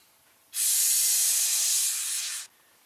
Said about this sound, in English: First thing you do, put your favorite solvent in there. I'm just going to use brake clean.